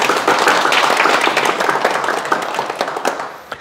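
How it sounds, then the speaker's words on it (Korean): Audience applause at a Sunday lecture hall, a dense wash of many hands clapping that starts loud and gradually thins out over a few seconds, with scattered individual claps near the end. "우리가 축하 박수를 보내주십니다"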